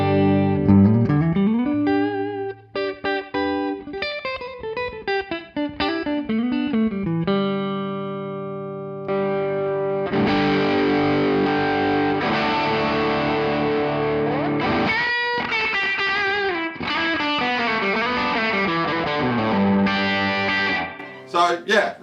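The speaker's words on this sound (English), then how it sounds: "it's almost like a slapback kind of reverb going on there" An electric guitar runs through a Hotone XTOMP pedal set to a slapback reverb. Distorted notes and sliding phrases repeat with short echoes, close and loud, and no one talks.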